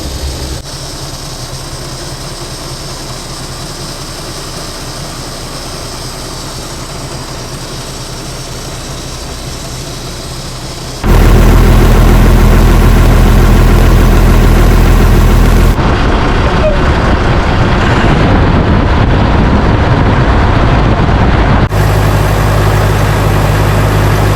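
A rare 60-year-old Diamond Reo 6x6 recovery truck, whose heavy engine cranks and fires up midway into a loud, deep, steady idle after a quieter low rumble. Voices talk over it.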